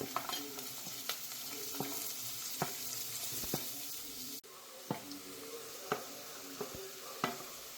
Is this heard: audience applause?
no